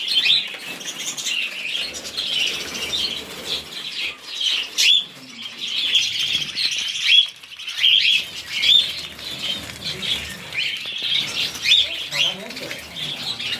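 Pet birds from an aviary, budgies, finches, cockatiels and lovebirds, chirp and tweet continuously with repeated bursts of wing flapping, close and fairly loud, with brief voices talking underneath.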